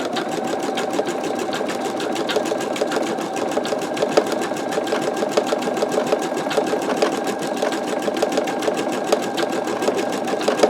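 An embroidery machine fitted with a 75/11 needle stitches a skull design on fabric, a steady fast mechanical whirring and ticking that runs loud and unbroken throughout.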